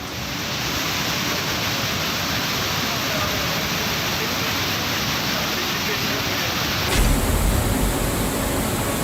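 A strong stream of water pours down from a hillside into a temple courtyard, a dense continuous roar that stays steady and loud throughout with a slight change in tone partway through.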